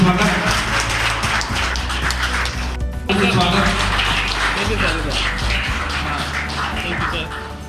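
A crowd gives loud, sustained applause at a ceremony in Giridih where a guest is honoured with a bouquet. The dense clapping runs almost the whole time, dips briefly midway, and voices can be heard through it.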